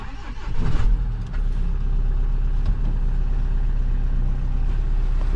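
A Renault van's engine cranks and catches, then settles into a steady, loud idle with a knocking mechanical note, heard close up with no talking.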